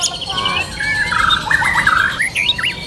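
White-rumped shama (murai batu) singing at a bird market kiosk: a run of bright, varied whistles, trills and rising chirps, close and clear over a low murmur of background noise.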